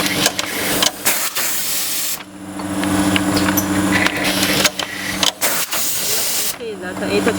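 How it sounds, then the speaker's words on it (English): Date printer on a powder packing machine for 280 mm wide bags, a steady mechanical hum and hiss broken by sharp clicks and short pauses. A voice talks over it throughout. "This is for the data printer."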